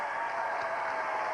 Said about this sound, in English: we will have a round of applause for both of them